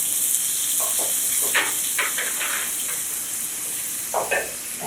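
Onion frying in oil over tempered mustard seeds, urad dal, cumin and curry leaves gives a steady close hiss, broken by a few brief spatters and stirring scrapes.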